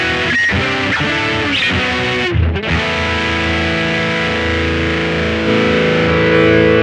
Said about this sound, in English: And then we have a distortion tone.